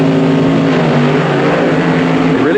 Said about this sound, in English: They release their brake and they're away in a cloud of smoke.